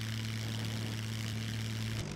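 A propeller plane's engine drones steadily in the survival game Scum, a continuous low hum with a strong tonal whine that eases off at the end as the throttle is pulled back.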